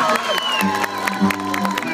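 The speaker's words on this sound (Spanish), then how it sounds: "aplauso cariñoso pues para Irati" Audience at a music performance cheers and claps for a young performer, scattered claps and shouts layered over sustained tones and voices, moderately loud and busy.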